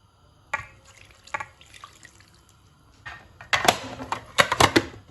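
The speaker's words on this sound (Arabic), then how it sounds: "غنزيد الماء شويه بشويه" Water is poured in bursts into bread dough in a kneading machine, with splashing and dripping that grows louder toward the end after a few softer clinks and taps, close by with no talking.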